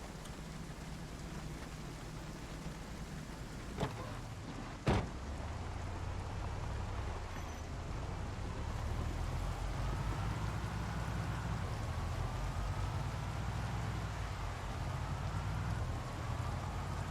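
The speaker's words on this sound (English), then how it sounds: "it's getting dark and rainy and awful" Steady rain outside makes a continuous soft hiss for the whole stretch, with a couple of sharp clicks near the start and a faint low rumble underneath.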